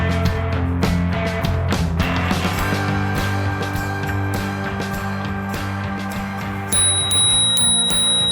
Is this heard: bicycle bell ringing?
yes